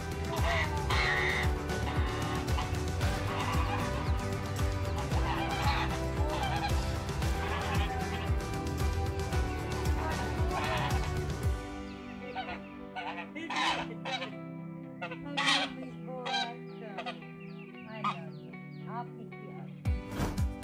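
A goose calls excitedly as it recognizes its human owner from a distance. Background music plays at first, then it fades and a run of loud, repeated honking calls sounds clearly, close and alone.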